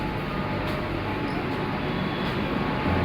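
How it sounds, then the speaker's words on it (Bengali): A Kolkata metro train arriving at Sector 5 station in Salt Lake, heard as a steady, loud broadband rumble throughout with a faint high whine, no clear talk on top. "আমাদের ট্রেন চলে এসছে"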